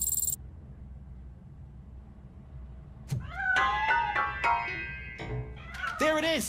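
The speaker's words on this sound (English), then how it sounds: "That cat must be hiding." A cat meows several times from a hiding spot inside or near a piano, clear rising and falling cries in the second half after a quiet start.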